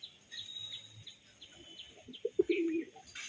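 A male Ferozpuri pigeon coos softly at close range in short low murmurs, with brief chirps. Faint high background noise runs throughout.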